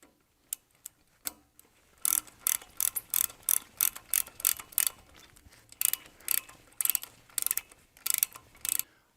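Tightening bolts on a close-coupled pump assembly with a ratchet gives several bursts of rapid, crisp ratcheting clicks that come in quick repeated strokes, near and fairly quiet, with no voices.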